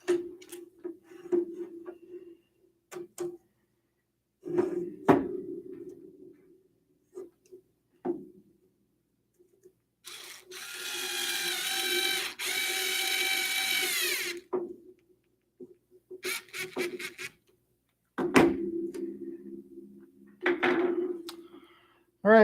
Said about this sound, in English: Get another nylon nut on the back. And then use the nut driver again and get that all done.